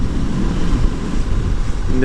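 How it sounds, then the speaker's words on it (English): Steady wind buffets the microphone, a low rumbling roar with no other clear sounds for a couple of seconds. "It's pretty windy here"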